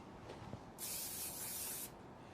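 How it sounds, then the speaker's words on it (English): A single bright, hissing spray from an aerosol hairspray can lasts about a second, close and fairly soft, in otherwise quiet surroundings. "So spray."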